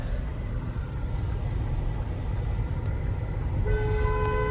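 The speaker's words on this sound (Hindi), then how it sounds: "लॉन्ग हॉर्न प्रेस करना।" A steady car engine rumble in a narrow lane, then the car horn starts blaring near the end and holds its tone.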